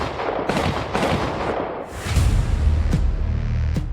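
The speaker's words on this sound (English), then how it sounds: "several gunshots ring out" Several gunshots on a street at night captured by a surveillance camera, a series of sharp, distant cracks spaced irregularly over a rumbling, noisy background.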